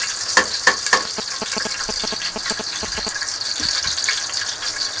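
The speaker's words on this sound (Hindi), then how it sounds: "ये थोड़े से मैंने कर लिए ऐसे फ्राई, ये प्याज स्लाइस।" Sliced onions frying in a pan, a steady bright sizzle with a few sharp stirring knocks near the start, close and loud, with no talk.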